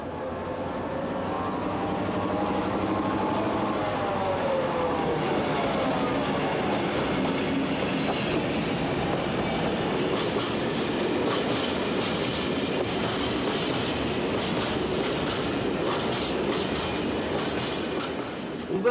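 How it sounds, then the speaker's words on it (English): A northbound diesel freight train of empty steel wagons rolls past steadily, with continuous rumble, rattling clatter and occasional metallic squeals growing sharper toward the end. "This northbound rake of empty steel wagons is a balancing working"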